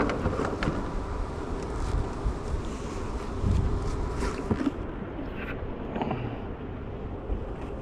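Honeybees buzz steadily around open hives on a farm during an inspection, a dense continuous drone close to the microphone, with light wind noise and occasional handling knocks.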